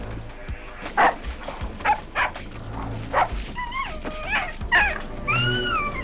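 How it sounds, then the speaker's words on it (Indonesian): Cartoon dog by a riverbank giving high, wavering whimpering howls and yips, several rising and falling cries over a steady background hum with soft thuds. "Suara lolongan Candy didengar oleh Conchita."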